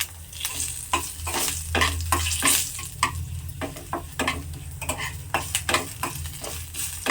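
Fenugreek seeds crackle in hot oil over a low gas flame as a tempering for a pea lentil dal with bottle gourd, a soft continuous sizzle punctuated by repeated spoon-stirring scrapes against the pan.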